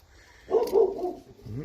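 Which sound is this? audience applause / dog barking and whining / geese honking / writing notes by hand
dog barking and whining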